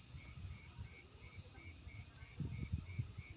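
Crickets chirp in a steady, pulsing high trill, soft and continuous, with faint low thumps and rustles underneath.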